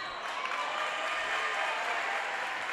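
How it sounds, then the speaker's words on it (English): A packed high school basketball crowd for a Valley Central at Warwick Valley boys' playoff game roars and boos in a steady, dense wash of noise that holds loud and unbroken throughout. "The VC visiting crowd is booing."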